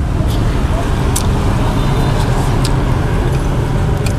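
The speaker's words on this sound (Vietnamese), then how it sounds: "Nay ngồi ngoài đường ăn nữa. Xe cộ nó nhiều, nó chạy tiếng ồn á." Steady, loud street traffic roars past a roadside spot in District 8, Ho Chi Minh City, where people sit outdoors eating hu tieu go, a continuous dense rumble of motorbikes and cars with faint clinks on top.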